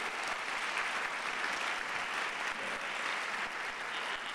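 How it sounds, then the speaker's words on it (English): Steady, dense applause from an audience at a university event at UMBC, where the U.S. Secretary of Education is speaking, sustained evenly with no pauses. "help me give him a round of applause for his leadership here at UMBC"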